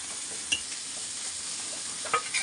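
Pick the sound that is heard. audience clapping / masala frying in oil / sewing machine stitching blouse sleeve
masala frying in oil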